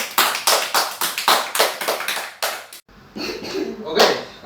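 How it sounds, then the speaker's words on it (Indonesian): A classroom of students claps their hands during a trigonometry lesson, a series of sharp, fairly loud rhythmic claps that breaks briefly and then resumes more loosely and scattered. "Tepuk tangan."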